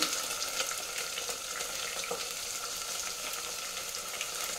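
Chopped large onion dropped into a hot pan with oil and kasuri methi, a steady close-up frying hiss with light spatula scrapes and small crackles throughout.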